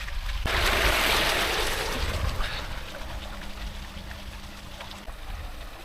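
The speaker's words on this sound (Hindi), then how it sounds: "ट्यूबवेल मैंने ऑन करके इसमें हल्का सा सिंचाई करना है" Tubewell pump pouring irrigation water onto an onion field, a steady broadband rush of gushing water that holds loud and constant throughout, with a faint low hum beneath it.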